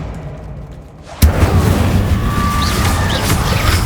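The Incendio fire spell cast in Hogwarts Legacy on PS5: a sudden loud boom bursts in after a quiet moment, then a dense roaring, crackling rush of flame holds steady to the end.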